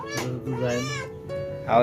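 A cat meows several times, its cries rising and falling, with people talking nearby.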